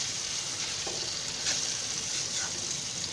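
Bitter gourd and potato stir-fry in a pan, a soft, even sizzle running throughout with a few faint stirring scrapes, close by and with no voices.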